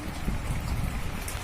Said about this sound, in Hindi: यहाँ पे बारिश हो रही है, कितनी अच्छी, इतना अच्छा मौसम है। अभी स्टार्ट हुआ है बारिश